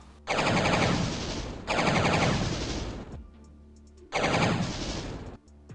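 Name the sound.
chain gun fire from dual revolvers in a Doom mod, video game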